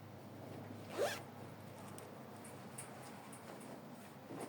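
An invisible zipper on a sewn twist knot skirt gives one quick, faint zip at close range in an otherwise quiet room.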